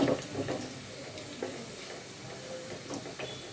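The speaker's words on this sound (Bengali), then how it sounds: "পেঁয়াজ, রসুন, শুকনো মরিচটা কিন্তু হালকা ভাজা হয়ে যাচ্ছে।" Onion, garlic and dried red chillies fry in a pan for sajna dal, giving a soft continuous sizzle with occasional stirring scrapes, close and fairly quiet, with no talking.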